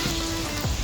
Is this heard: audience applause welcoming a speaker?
no